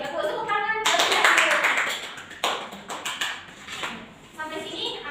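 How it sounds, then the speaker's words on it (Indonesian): Schoolchildren in a classroom clap their hands in short bursts of sharp claps between moments of speech. "Oke, bagus tepuk tangan."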